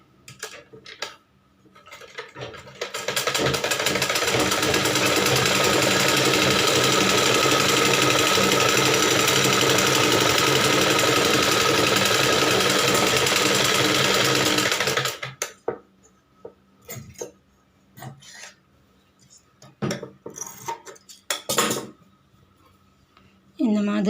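A domestic sewing machine runs in one long continuous burst while stitching a blouse, loud and steady for about twelve seconds, then stops. After it stops come short handling clicks and brief bursts of talk.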